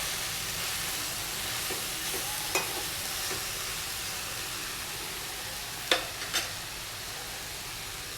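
Coriander and mint being stirred in a hot pan for chutney: steady, faint sizzling and frying throughout, with a few soft scrapes and taps of the spoon against the pan.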